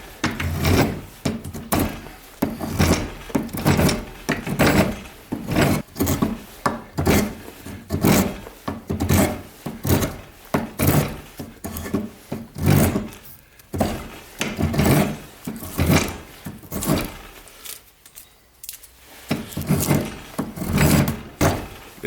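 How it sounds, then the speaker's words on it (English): A curved-bottom spokeshave shaves long-fallow mulberry wood in steady, repeated strokes, each a close, scraping rasp with brief pauses between passes and no talking. "There's also a curved bottom Spokeshave. I've never used a curved bottom Spokeshave before today."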